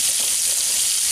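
Bottle gourd pieces going into hot oil, giving a loud, close, continuous hiss of sizzling that stays steady for the whole moment.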